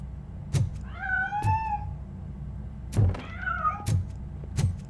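A cat meows twice in Robocop: Rogue City, each call a rising-and-falling wail, with sharp thuds and footstep-like knocks between and around them.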